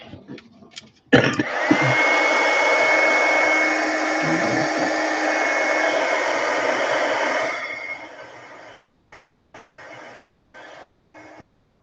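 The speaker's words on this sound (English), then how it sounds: "Let me get my heat gun here a sec." A heat gun blows hot air to dry Mod Podge on a napkin: a loud, steady whooshing roar starts abruptly, runs for about six seconds, then fades, followed by a few faint brief noises.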